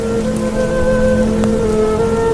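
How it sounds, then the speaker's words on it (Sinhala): Sudden heavy rain pours down in a Sinhala cartoon story, a dense, steady wash of drops that holds at an even, loud level with faint tonal lines running underneath. "අනේ කොහෙන්ද මේ එකපාරටම වැස්සක් කඩා පාත්තුනේ?"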